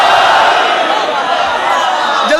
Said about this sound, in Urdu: جو بول سکتے ہیں مل کے نعرے حیدری